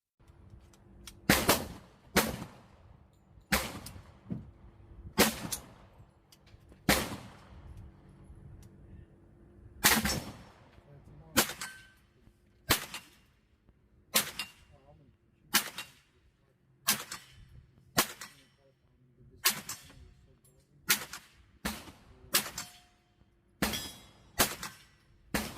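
Bear Creek Arsenal BC-9 firing 9mm rounds from a Glock magazine at an outdoor range, sharp loud single shots in a steady paced string of about nineteen, each cracking alone with brief decay between.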